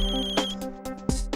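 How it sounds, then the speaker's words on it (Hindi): Telephone ringtone for an incoming call, a short bright electronic melodic ring lasting just over a second, heard alone. "शैतान का नाम लिया और शैतान का फोन आ गया"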